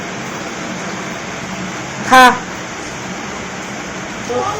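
Rain falls outside a home as a steady, even hiss throughout, with a voice briefly heard over it.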